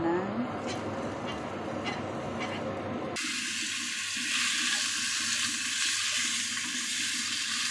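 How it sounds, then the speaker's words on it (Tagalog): Melon sautés in a pan, a soft sizzle under a woman's speech, then a sudden louder broadband hiss of frying that continues steadily. "igisa ko itong melon"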